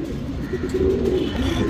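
A male racing pigeon of the Yedenur Sabza line coos at close range, a loud, steady, throaty burble that carries through the whole moment with no voices.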